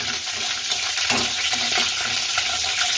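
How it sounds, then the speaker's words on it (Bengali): Chira pulao being stirred in a hot pan with green chilies and curry leaves, a steady close sizzle with scraping spoon strokes throughout, no talking. "ভালো করে নাড়াচাড়া করবো ভালো করে নাড়ছি"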